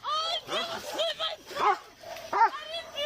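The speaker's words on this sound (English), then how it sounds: "Get the dog off me!" A police K9 dog barks and yelps in rapid, uneven bursts at close range during a forceful arrest, the harsh calls coming several times a second amid the commotion.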